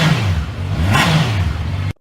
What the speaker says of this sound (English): revving this thing is pure bliss